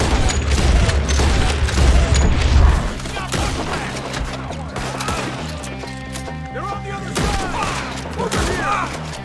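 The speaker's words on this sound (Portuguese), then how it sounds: "Nossa, quanto tiro." Gunfire in the video game Red Dead Redemption 2: a burst of booming shots and thuds up front, then scattered distant pops under a low mechanical drone, with someone talking throughout.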